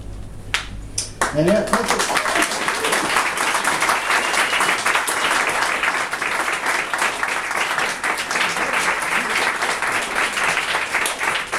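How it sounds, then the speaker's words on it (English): Audience applause after a performance-poetry reading, loud sustained clapping from a crowd filling the room, with scattered cheers in the first moments. "Another round of applause to the almost illegal beauty of A.F. Harrold."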